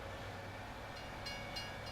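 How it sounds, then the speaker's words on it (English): A train rolling through in the video game Farming Simulator 19, a quiet continuous rumble with faint higher clatter, heard alone at low level. "that train always seems to come through as I'm going through"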